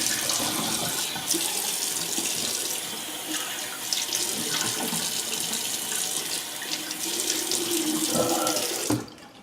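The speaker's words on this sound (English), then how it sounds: "let's go for a cold rinse" A water tap runs steadily into a sink for a cold rinse during a wet shave, a loud, continuous splashing hiss that cuts off abruptly near the end.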